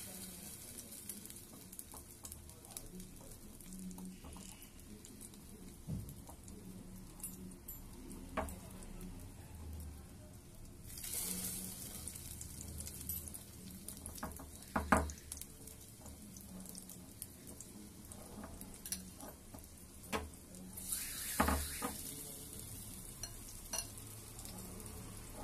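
Egg-dipped bread slices fry in a frying pan with a low, steady sizzle, punctuated by occasional clatter and louder bursts of hissing as slices are moved or added.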